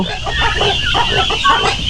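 Turkeys cluck and gobble close by in a busy, overlapping chorus on a farm, with a faint voice underneath.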